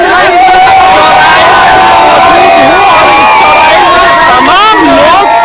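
A large, dense crowd gathered at a busy crossroads in Patel Nagar during an election campaign, with loud, continuous babble of many voices and shouts close by and no pause throughout.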